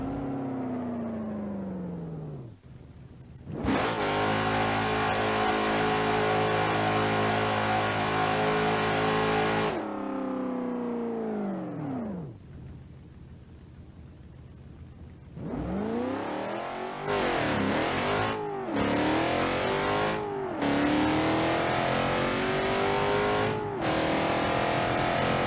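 A Ford Mustang in the BeamNG.drive driving game makes a drag run: the simulated engine revs hard and climbs in pitch through several gear changes, drops away, then launches again with more rising revs, loud and alone.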